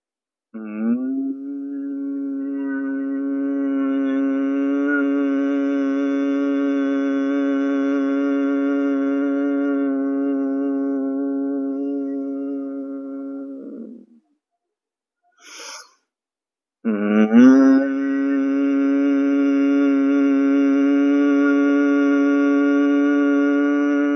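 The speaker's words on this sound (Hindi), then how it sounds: "नाक से आवाज निकालनी होती है इसमें ओम की" A long, steady nasal hum of Om during yoga practice, sustained for many seconds, then a brief breath and another hum begins, loud and close.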